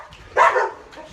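Dogs barking at a woman walking her dog past the house: one short, loud burst of close barks in a quiet room, then near silence.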